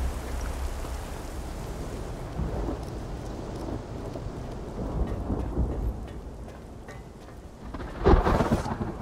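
Thunderstorm with steady rain in the video game Chronos: Before the Ashes, a continuous rain wash under rolling thunder, ending in a loud, close thunderclap near the end.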